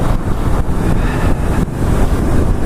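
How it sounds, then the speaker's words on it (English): Strong wind roars and buffets steadily against the microphone while riding a 2019 Ducati Monster motorcycle, a loud, constant rumble with gusty surges and no voices. "Getting blasted everywhere by this wind."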